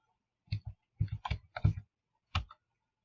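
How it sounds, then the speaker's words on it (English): Values being keyed into a computer keyboard, with tab pressed to move between fields: about eight crisp, close keystrokes in small uneven clusters, separated by short pauses, in a quiet room. "I just key that in on my keyboard, hitting tab to go between."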